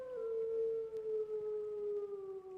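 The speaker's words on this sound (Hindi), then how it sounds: "वल्ला मुझे कुत्ते की आवाज आई" A dog howls in the zombie survival video game Rise and Survive, one long, steady, slowly falling wail that holds for a couple of seconds at moderate volume.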